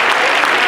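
A church congregation claps their hands together in praise during a worship service, a dense, loud, continuous patter of many hands close by.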